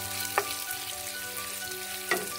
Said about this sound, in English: Now roast the garlic and ginger nicely until golden brown. Stir them.